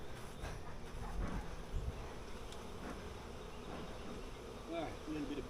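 Honey bees swarm around a flood-damaged hive being restored after heavy rain, making a steady, dense buzz that continues throughout at moderate loudness with faint outdoor background.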